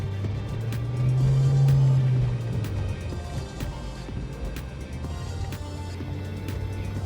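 A Mk4 Volkswagen Jetta with a faulty Tiptronic automatic transmission driving along, its engine droning steadily from inside the cabin with a brief rise in revs, plus faint clicks and rattles.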